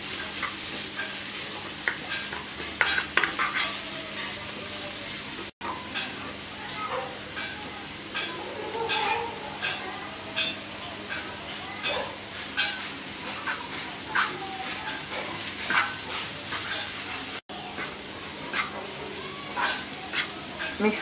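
Potato, bean and carrot bhaji with chopped coriander leaves being stirred in a frying pan, repeated close scraping strokes over a steady soft sizzle, with a faint voice in the background.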